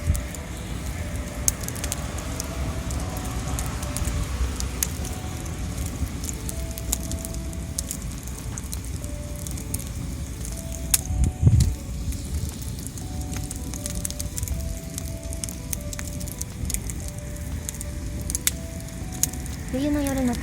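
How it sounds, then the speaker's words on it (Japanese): A campfire crackles outdoors on a winter night, with scattered sharp pops and snaps over a steady low hiss of burning wood, close and fairly even, heard alone. "冬の夜の焚き火は、"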